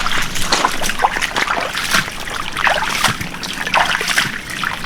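Water poured into a crab hole in a forest stream bank makes a continuous close trickling and splashing, rising and falling in irregular gushes.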